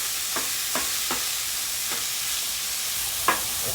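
Hamburger meat frying on a griddle, a steady close sizzle broken by a handful of short taps and scrapes as the meat is stirred, with no talking.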